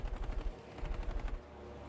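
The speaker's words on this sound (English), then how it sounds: "I'm shooting at it right there." Rapid automatic gunfire in the Battlefield V video game, a loud, close burst of evenly spaced shots that pauses briefly, then resumes as a second rattling burst before cutting off.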